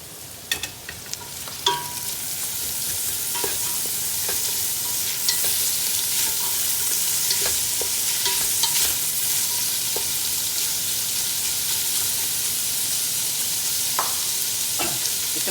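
Onions fry and sizzle in a curry pot while being stirred, a steady crackling hiss with scattered scraping clicks of the stirring utensil, close and fairly loud, with no talking.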